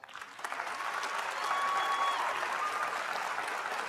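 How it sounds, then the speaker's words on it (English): A large commencement audience breaks into steady applause, a dense wash of clapping that swells and holds at a moderate distance with a faint whistle in the crowd. "Can we take a moment and give you a round of applause?"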